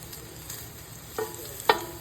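Slices of beef sizzle softly in a pan over low heat as a home-cooked rainy-day dish is prepared, a faint steady frying hiss broken by a couple of sharp crackling pops.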